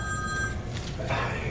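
A mobile phone rings during a live comedy show in a tavern cellar, a thin electronic ring tone heard briefly at the start over the murmur of a crowd and a speaking voice.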